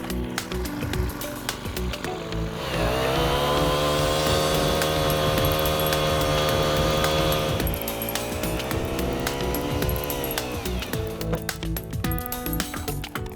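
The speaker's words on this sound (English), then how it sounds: "for the exercise we'll use an auger to put the hole in" A powered auger bores a fence post hole for a box strut on a waterway fencing job, its engine droning steadily at close range for several seconds with clinks and rattles before and after.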